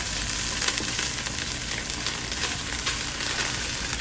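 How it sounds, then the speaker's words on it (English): Rice frying on low heat in a pan for Persian koobideh kabob, a loud, steady, close sizzle with faint stirring, no talk. "it's starting to fry the bottom part of the rice there."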